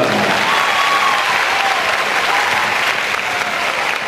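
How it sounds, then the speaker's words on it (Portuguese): A theatre audience at a chamber orchestra circus-themed show claps in sustained, dense applause, loud and even from start to finish with no voices over it. "eu peço uma salva de palmas"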